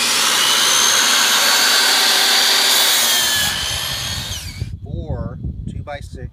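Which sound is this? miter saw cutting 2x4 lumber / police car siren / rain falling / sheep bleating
miter saw cutting 2x4 lumber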